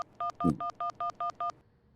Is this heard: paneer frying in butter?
no